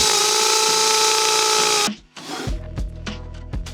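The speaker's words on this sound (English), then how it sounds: "Just need to drill the rest of this hole." A power drill bores through the rest of a hole in a long, solid piece of wood, starting with a loud, steady whine that cuts off sharply partway through. It is followed by scattered knocks and handling clatter.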